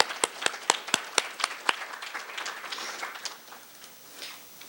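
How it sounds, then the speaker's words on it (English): An audience at an evening education session gives a short round of applause, several crisp claps at first that thin into scattered, softer clapping as it fades away. "So can we just give Mr. Pieper a round of applause as well?"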